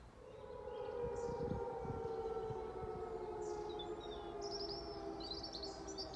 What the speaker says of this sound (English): we hear a klaxon air raid siren going off